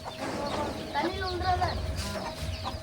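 A village mother hen clucks and calls with short, nasal, pitched notes, close by, over a background of other fowl and low rumble, with someone talking over it.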